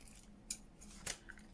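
Scissors that have snapped cut paper in two or three faint, sharp snips, close and alone in a quiet room.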